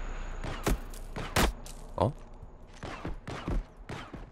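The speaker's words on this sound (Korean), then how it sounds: "조준, 발사. 왜 이렇게 총소리가 가벼워?" Several sharp, light gunshots crack at irregular intervals in the video game Project Tower, fairly quiet, with game sound effects and a voice in the background.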